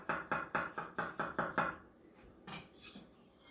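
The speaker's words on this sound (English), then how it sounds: "I'm going to take a nice sharp knife. Always a sharp knife. And then I'm just going to slice down the avocado." A sharp kitchen knife slices down through an avocado for a salad of lobster, mango and avocado, giving about eight quick, evenly spaced taps against the board, then a couple of softer knocks.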